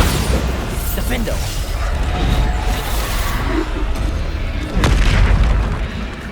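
Bombarda spell explosions in Hogwarts Legacy boom through a loud, busy combat mix, with a sharp burst standing out near the end above continuous rumble and shouted voices.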